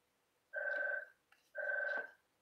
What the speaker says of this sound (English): Lovely phone's ringing.